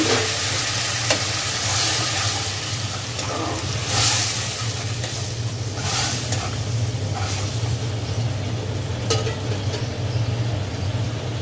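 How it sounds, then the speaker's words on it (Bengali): Spices sizzle and fry steadily in a pan for a Bangladeshi pumpkin, bottle gourd and small shrimp curry after a splash of water is added, a constant close hiss with faint stirring scrapes throughout. "এ পর্যায়ে একটু পানি দিব, মশলাটা পুড়ে যাচ্ছে।"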